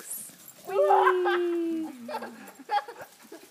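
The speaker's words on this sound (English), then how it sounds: "Here go the dogs." Dogs playing keep away, with a long high whine or yelp followed by shorter yips and scuffling, close by, with people's voices and laughter mixed in.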